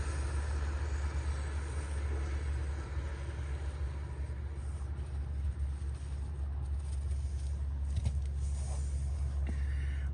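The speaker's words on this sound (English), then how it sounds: "Excuse the noise, I'm on the side of the road." Roadside traffic makes a steady low rumble of passing vehicles. The noise is continuous and moderately loud throughout, with no voices.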